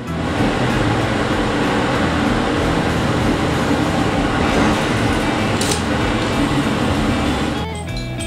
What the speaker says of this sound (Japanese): 当然この列車は通過です。